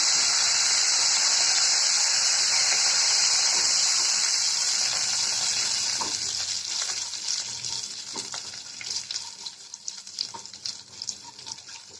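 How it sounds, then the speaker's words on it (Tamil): Chana dal, cumin and curry leaves fry in hot oil with a loud, steady sizzle that thins after a few seconds into scattered crackles and pops. "ஒரு ஸ்பூன் கடலைப்பருப்பு கொஞ்சம் கருவேப்பிலை நல்லா ஃப்ரை பண்ணிக்கலாம்"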